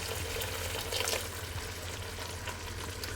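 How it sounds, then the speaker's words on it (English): Water is poured into a thickening chicken sauce in a pan, a soft continuous trickle and splash heard up close over low kitchen background noise, with no talking. "I'll add a little bit more water."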